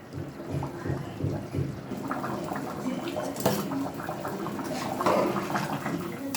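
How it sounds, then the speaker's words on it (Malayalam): A pot of mutton coriander curry bubbles and burbles at a steady boil, soft gurgling and popping up close with no talk. "നന്നായിട്ടൊന്ന് തിളയ്ക്കട്ടെ"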